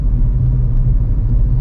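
A car engine drones low and steady in fourth gear around 2000 RPM, a constant close rumble while driving with no change in pitch over the short stretch.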